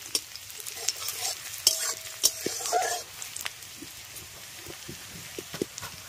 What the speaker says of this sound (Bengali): এবার পেঁয়াজটাকে প্রথমে ভেজে নেব।